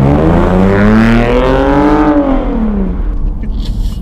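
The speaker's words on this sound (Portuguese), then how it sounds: "Olha o ronco desse carro, galera!" A Ford Mustang's engine revs loudly and close, its roar climbing and then falling away as the car seems to pull off into the distance.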